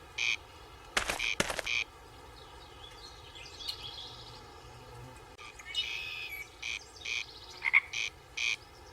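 Frogs croak in the video game Memoranda, where the frogs once sang on lily pads. Bursts of raspy croaking repeat in short clusters over a steady ambient bed, with quiet gaps between the calls.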